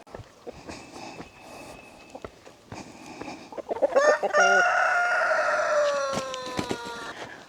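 Backyard chickens just let out of their coop, with scattered clucks and squawks building into loud, sustained crowing and calls in the second half, with no talking.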